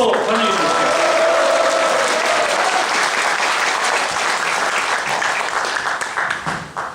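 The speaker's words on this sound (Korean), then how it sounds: "힘찬 박수로 환영해 주십시오." A seated audience at a meeting with the Seoul mayor gives hearty applause to welcome an arriving city council member. The clapping is loud, sustained and close, with a voice briefly heard over the start before the applause tapers off.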